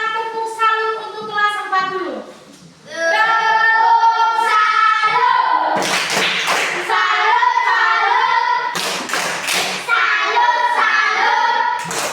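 A primary school class of fourth-graders chants a rhythmic 'tepuk salut' routine in unison, with sharp bursts of group clapping breaking in twice near the end.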